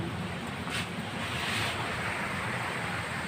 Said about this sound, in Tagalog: Mas malakas ang hangin.